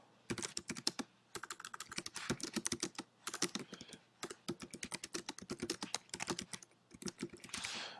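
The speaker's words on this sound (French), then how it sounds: "ensuite taper sa note" Rapid typing on a computer keyboard as a note is entered, dense bursts of crisp key clicks broken by short pauses, close and clear with no talking.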